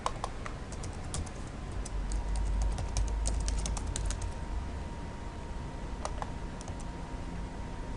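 Someone types an address on a computer keyboard in an office, with quick, light, irregular key clicks, close and fairly faint over a quiet background hum.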